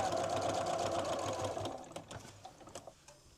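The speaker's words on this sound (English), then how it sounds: "we're sewing our 1/4 inch seam allowance, stopping at the seam, pulling the pin out" A sewing machine stitches a quarter-inch seam on a quilt block, whirring in a fast even run close by, then slowing and stopping into a few scattered clicks and handling noises.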